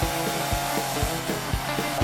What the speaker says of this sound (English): There was a chainsaw wood carver turning out all kinds of animal statues.